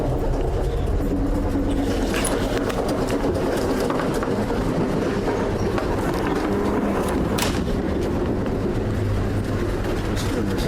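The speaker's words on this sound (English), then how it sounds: "Can you get off this train here?" A moving train rumbles steadily from inside a car, with a constant low drone, occasional rattles and clanks, and faint bird-like squeaks over the top.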